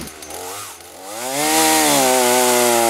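A Lincoln L56C 56cc petrol chainsaw with a 20-inch bar idles and then revs up to a loud, steady high-pitched whine that holds at full throttle, close by with no talking.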